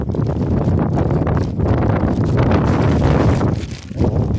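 Strong wind buffets the microphone in a continuous loud rumble, gusting unevenly with brief dips throughout.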